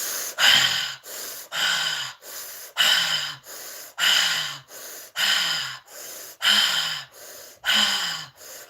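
Slow, deep breaths in a guided breathing exercise, each loud, rushing inhale or exhale followed by a pause, repeating steadily about every second, close and clear with no talking.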